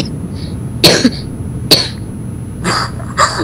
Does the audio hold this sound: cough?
yes